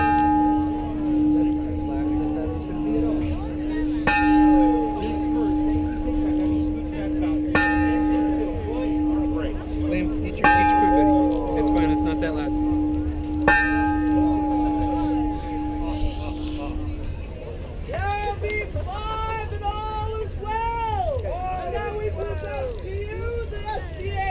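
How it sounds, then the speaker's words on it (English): Loud bell at a Renaissance fair fight demonstration, struck about four times at even intervals with ringing tones, while someone speaks throughout and the bell gives way to talk. "The bell will be very loud."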